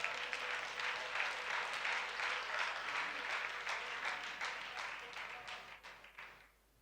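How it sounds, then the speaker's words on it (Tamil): Applause from a church congregation at a Sunday service fills the room, a dense, even wash of clapping that holds steady for several seconds and then thins and fades away. Only a few faint voices come through. "கைத்தட்டுங்க பார்க்கலாம்."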